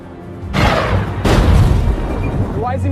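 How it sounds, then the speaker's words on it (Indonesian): Two loud, close booms of an anti-tank cannon firing in a World War II film scene, each a sharp blast with a long rumbling tail, about a second apart. "Sim akan menggunakan meriam anti-tank yang ia temukan sebelumnya."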